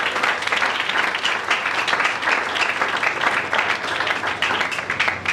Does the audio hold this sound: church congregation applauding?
yes